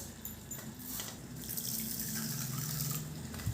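Water runs from a tap as rice is washed for a miniature chicken biryani, a steady close hiss with light splashing and dribbling and no voices.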